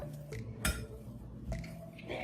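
Avocado being smushed in a bowl for a bean and avocado wrap: a few light clinks and taps of a utensil against the bowl, with soft squishy scraping between them, close and quiet.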